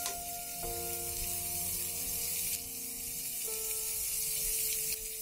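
Mustard paste sizzling in a hot pan while cooking amra chorchori, a steady, soft frying hiss with faint tonal hum underneath and no talking.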